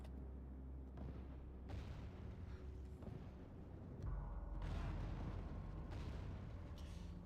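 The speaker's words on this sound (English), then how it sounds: "A little cannons just doing work." Cannon fire in a large army battle within a video game, a series of low muffled booms at irregular intervals over a continuous rumbling battle backdrop, fairly quiet overall.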